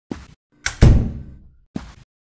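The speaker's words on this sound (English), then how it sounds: "Okay, shut that door" In a horror video game set in a hotel, a door is shut: a light click, then a heavy wooden thud with a short resonant tail, and a final latch knock.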